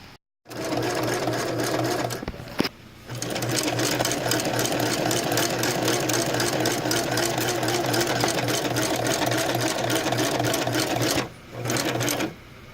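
A sewing machine stitches a collar into a homemade dog harness, its loud steady running hum going near-continuously, with brief stops and restarts between bursts of stitching.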